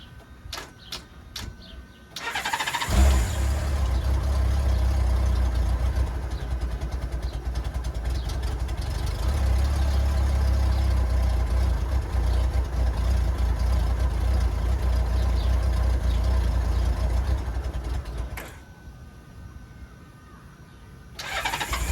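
A 1994 Honda GL1500 Goldwing motorcycle engine cranks and catches after a few clicks, then idles with a steady low rumble for about fifteen seconds before shutting off, followed by a brief restart attempt at the end.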